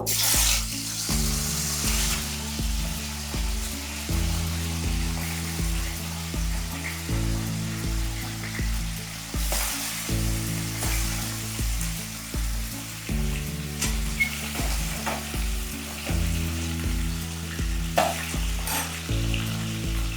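Fish frying in hot oil for macher jhol, giving a continuous crackling sizzle over a rhythmic, repeating musical background, with occasional louder pops.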